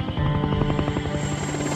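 Coast Guard helicopters searching at night for an airliner crash site in the dark, heard as a steady rhythmic rotor thudding with a continuous engine whine, fairly loud and sustained.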